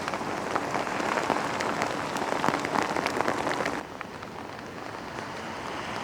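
Heavy rain pours down on the Blackpool seafront, a dense, steady hiss of drops hitting the ground that is loud for most of the stretch, then eases to a softer, continuous patter.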